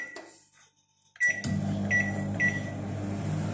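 A microwave oven heating hot sandwiches: a door clunk and a few beeps from the control panel, then a steady low electric hum as the oven starts running.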